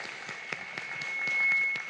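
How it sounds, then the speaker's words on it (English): A live summit audience breaks into a round of applause, a brief steady patter of clapping heard at moderate distance with no one speaking over it. "definitely give that a round of applause."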